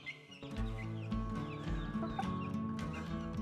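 Backyard chickens, Rhode Island Reds and tan hens, cluck and murmur close together in a steady chatter of overlapping calls, fairly quiet overall.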